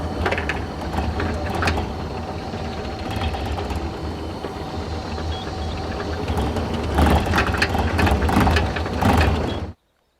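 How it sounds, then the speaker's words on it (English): Excavator working to compact fill dirt at a flood-damaged site: a steady diesel engine rumble with clanking mechanical knocks, swelling louder near the end before cutting off abruptly. "So let's get this packed the best we can with the excavator"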